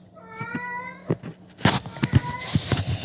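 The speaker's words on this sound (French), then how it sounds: "Essayez juste d'entendre le bruit de mon chat quand il a faim" A hungry domestic cat meows several times in quick succession, the cries clear and close, followed by a burst of louder, rougher noise and shuffling.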